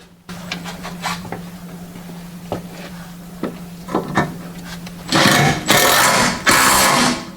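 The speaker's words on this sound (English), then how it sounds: "So now you can tighten the center bolt." Tightening the centre bolt during a transmission replacement on a Mercedes Sprinter van: a string of sharp metallic clicks and knocks, then three loud bursts of ratcheting or whirring tool noise close by, with no talk.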